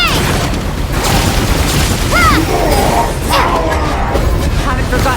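Bombs explode in Genshin Impact in a loud, dense rumble of booms and crashes lasting several seconds, with a voice calling out over the blasts.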